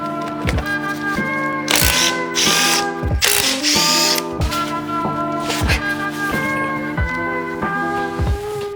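A ratchet clicks rapidly and repeatedly while loosening the wheel bolts on a Volvo V70 D5, in bursts of sharp metallic pawl ticks with brief pauses between strokes, close and loud.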